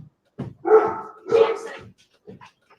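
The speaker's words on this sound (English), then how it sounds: "Jack, no bark. Oh, somebody's at the door" A pet dog barks at someone arriving at the door of a home, giving two loud, close barks followed by a few fainter yips.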